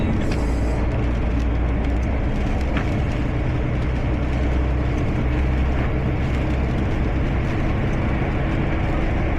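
A Renault HGV truck engine pulling hard to overtake on a night drive, a steady deep drone with heavy low rumble and road noise filling the cab, loud and unbroken throughout.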